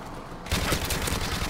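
A rapid burst of close gunfire erupts after a brief quiet moment in Modern Warfare Remastered, dense overlapping shots forming a loud fusillade.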